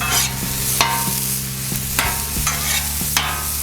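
Chorizo pork frying over medium-high heat in a pan, a loud steady sizzle punctuated by regular scraping strokes of a spatula about every half second.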